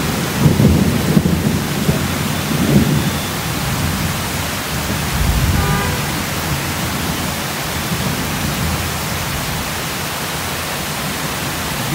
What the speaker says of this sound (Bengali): খুব বৃষ্টি না, এই বৃষ্টিটা আধা ঘন্টা হইলে ভালো লাগবে, ঠান্ডা পড়বে।